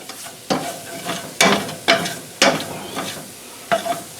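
Flour stirred and sizzling in a hot pan after a splash of brandy, a spoon scraping in steady repeated strokes over a soft frying hiss, close up.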